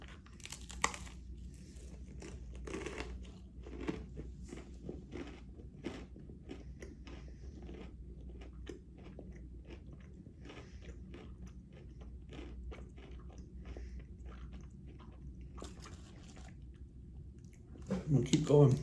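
Close, wet chewing and crunching of a spicy ice cream fire bar, repeated bites and mastication over nearly twenty seconds, with brief bursts of other noise and a louder rustle at the end.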